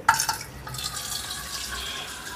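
Cold water running from a kitchen tap for cooking mee kampua noodles, a steady close hiss of flowing water with a small splash at the start and no talking.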